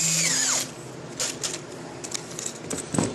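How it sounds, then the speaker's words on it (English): A power drill run in reverse to tighten a T-nut down into a wooden drawer-knob blank gives a brief high whine that winds down, followed by scattered light clicks and taps. "I'll attach my drill on the other side, stick it in reverse, and that'll tighten everything down"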